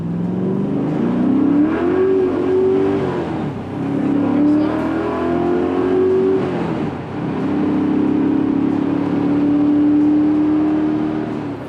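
A 1969 Camaro RS/SS with an LS427 V8 accelerates hard, the engine climbing through three rising pulls separated by brief gear-change dips, loud and close from inside the car.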